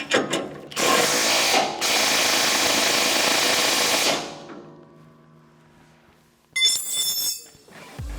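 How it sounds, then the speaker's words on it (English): Socket and wrench, both 1.5 inch, tightening a fastener on a bottom auger assembly, giving two bursts of loud close ratcheting, then a quieter stretch and a brief metallic clatter. "Then I proceed to tighten the fastener."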